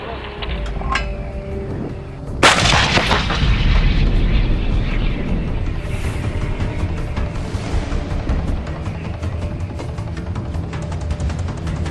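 A Turkish Panter 155 mm towed howitzer fires one loud, deep boom that rolls into a long rumbling tail with faint metallic clatter.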